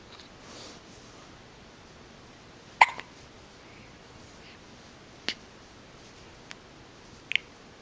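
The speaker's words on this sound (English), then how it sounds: "we'll wait a little bit until your hiccups go away" Hiccups, a few short sharp isolated catches spaced seconds apart over quiet room tone.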